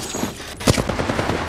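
Rapid bursts of gunfire in the Apex Legends video game, a sharp loud shot cracking out amid quick repeated automatic fire, close and punchy over a busy in-game mix.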